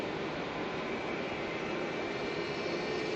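A Jetstar jet airliner at Melbourne Airport makes a faint, steady, distant rushing engine roar that holds evenly throughout, with no voices.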